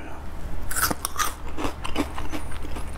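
Someone bites into crispy, golden deep-fried shrimp for a Korean-style dish, giving a few close, sharp crunches followed by quick chewing crackles, without any talking.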